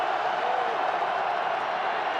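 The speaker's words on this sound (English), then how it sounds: "the crowd starts to become a factor." Steady, loud stadium crowd roar at a 2005 NFL football game, Giants at Redskins in Washington, a dense unbroken wash of many voices with no distinct individual calls.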